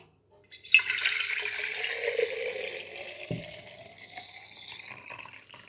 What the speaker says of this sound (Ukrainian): Наливаю банку води теплої, тепленької